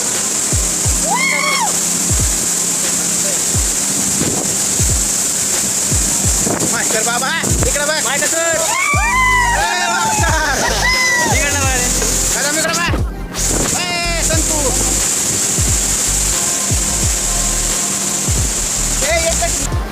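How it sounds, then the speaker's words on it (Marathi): Water pouring down Bilgaon waterfall in Nandurbar makes a steady, dense roar that runs unbroken throughout, with people talking and calling out over it. "पाण्याला एक सुंदर धबधबा बघण्यासाठी उंचावरून पडावं लागतं"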